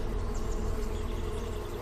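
A faint, steady insect drone like bees buzzing, low and continuous without breaks, heard against a quiet background with no talking.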